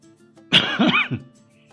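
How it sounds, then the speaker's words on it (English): A single harsh, throaty cough, close and loud, lasting under a second against a quiet background. "that cough shook my entire desk"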